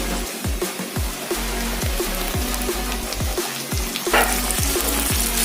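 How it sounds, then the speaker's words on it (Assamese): Spices sizzling and frying in a pan for an Assamese fish head curry, a steady crackling hiss with rhythmic stirring scrapes repeating about every half second, close and moderately loud, with no talking. "এতিয়া মই এইখিনি ভালদৰে ভাজি লোৱাৰ পিছত ইয়াত মই এতিয়া জলকীয়া এড কৰি দিম"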